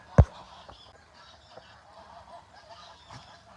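Geese on a rural farm give one loud, sharp honk near the start, followed by fainter, scattered calls in the background.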